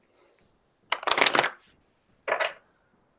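Goddess oracle reading cards being shuffled by hand, close and quiet, in two distinct riffling bursts separated by a pause, with soft handling noise around them.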